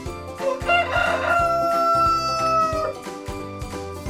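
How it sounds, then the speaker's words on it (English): A rooster crows one long, loud cock-a-doodle-doo close by, heard over a bouncy rhythmic music bed in a children's farm animal sounds lesson. "That's right, it's a rooster."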